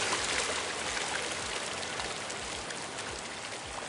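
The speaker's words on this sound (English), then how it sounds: "Now the birds and wind sound effects start to fill our audio environment a little more as the river sound effect" A river sound effect plays as a steady, dense rush of flowing water that stays loud and unbroken throughout, with no distinct bird calls standing out.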